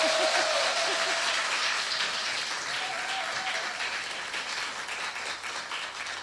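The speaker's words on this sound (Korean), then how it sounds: "소병철 전 고검장 그분이 받을 박수까지 포함해서 같이 한번 일단 받으시고." Studio audience applause, a dense, steady wash of clapping that stays loud throughout and fades slightly toward the end, with no talking over it.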